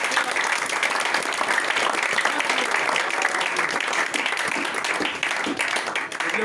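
A church congregation applauds continuously, dense loud clapping from many hands sustained throughout, with faint crowd voices mixed in.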